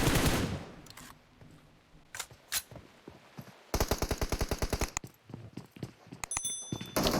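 Gunfire crackles in a PUBG Mobile esports match, with scattered single shots early on, then a fast, loud burst of automatic fire lasting about a second, followed by more rapid popping shots, with no talk over it.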